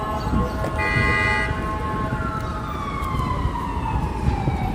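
An ambulance siren sweeps through busy New York City traffic near the High Line extension and Hudson Yards, its falling wail rising over a dense, steady wash of street noise.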